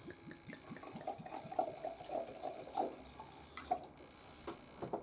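Sauternes dessert wine poured into a glass, a quiet trickling and gurgling stream with small splashy drips that rise in pitch as the glass fills, faint and close.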